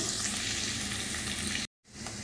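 Finely chopped ginger and curry leaves frying in a pan with onions, a dense continuous sizzle broken by a brief silent gap before it resumes.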